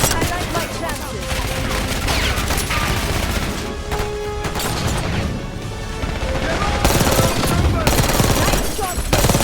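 Dense, sustained gunfire fills a Call of Duty: Black Ops 6 campaign battle: loud, continuous rattling bursts and impacts with heavy low rumble. Shouted voices come through under the din.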